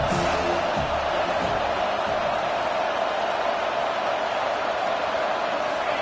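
Stadium crowd in the video game College Football 25, a loud steady roar of a large crowd with faint cheering, continuous and filling the whole stretch.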